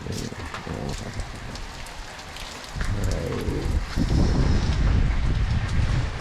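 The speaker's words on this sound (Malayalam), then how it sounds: "നല്ല മഴയാണ്." Heavy rain falls steadily during a cycle trip through the forest at Nelliyampathy, a broad, dense hiss that grows louder and fuller partway through, with wind buffeting the microphone.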